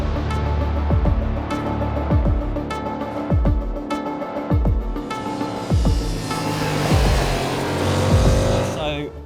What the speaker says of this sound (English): today we are in Portugal and we have been riding Yamaha's updated R7